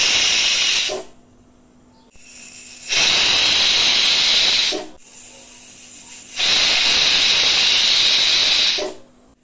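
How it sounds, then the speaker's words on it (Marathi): A pressure cooker releases steam in two long, loud hissing bursts separated by quieter gaps, each starting and ending abruptly, close and with no one speaking. "तीन शिट्या झाल्या आहेत। कुकर थंड होण्याची वाट पाहूया।"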